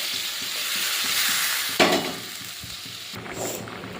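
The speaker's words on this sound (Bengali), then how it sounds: "ঝোলটা ফুটে গেছে" Curry broth with ground poppy seed paste bubbling in a covered pot, a steady close simmering hiss with soft stirring scrapes and a brief louder clatter midway.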